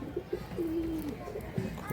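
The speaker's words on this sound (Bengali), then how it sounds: "খুবই ভালো পায়রা।" Pigeons coo in a loft, with one clear sustained low coo in the middle and softer coos around it, close and moderately loud over faint background noise.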